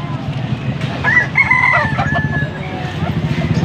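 A rooster crows once, loud and close, its call rising and stretching over a second, with faint background chatter and outdoor noise, at a market in Pampanga, Philippines.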